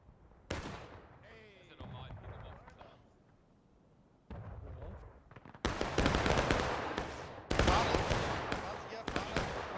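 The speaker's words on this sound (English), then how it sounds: "Nice shooting on that cannon here." Cannon and musket fire in the Civil War game War of Rights, at Bolivar Heights: scattered distant shots and booms, then heavy, loud volleys that crack and roll in bursts, with a voice talking over the action.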